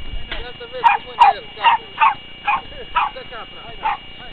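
A dog barks about nine times in a steady, evenly spaced series, loud and close, with little else around it.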